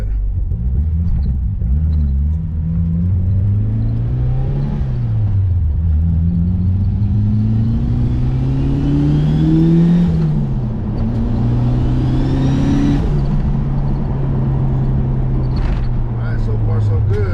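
A 400hp 1999 Mitsubishi Eclipse GSX engine pulls under roughly 30% throttle on a test drive, a loud continuous rumble with pitch climbing and dropping through gear changes, heard from inside the car.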